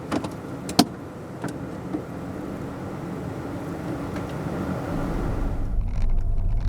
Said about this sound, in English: So let's go for a drive.